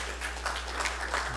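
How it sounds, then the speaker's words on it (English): An audience claps in a sustained round of applause at a Sunday church service marking a 15th memorial anniversary, with steady, dense clapping over a low hum from the room. "Let's give Hyojinim a round of applause."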